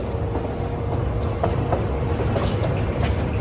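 Park tourist train at Sazova Park in Eskişehir, Turkey rumbles along with a steady low drone and faint clicking and rattling of its wagons, close and continuous.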